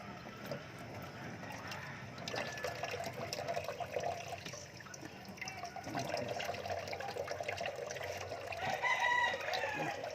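Chickens cluck and a rooster crows faintly amid a busy outdoor wash of background noise and running water.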